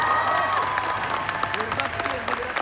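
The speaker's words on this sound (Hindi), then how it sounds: "तालियां तो बनती है, सैल्यूट" Audience applause at a 25th anniversary celebration at the Hyatt Regency, a short burst of crowd clapping with a voice speaking over it.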